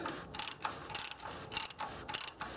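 Ratchet clicking in four short bursts while a socket tightens a new oil pressure sensor on a Nissan Maxima, crisp and close with brief pauses between strokes.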